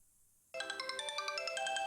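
A phone ringtone for an incoming call starts abruptly after a moment of silence, then plays a steady, bright repeating melodic tone, clear and close.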